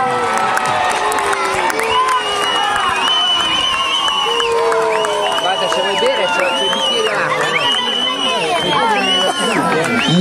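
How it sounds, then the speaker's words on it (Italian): A crowd of fans at the Palio del Capitano di Castello cheering and shouting together, a dense, continuous roar of many voices with whoops and calls rising above it, loud and close throughout. "il tifo. Un sano tifo."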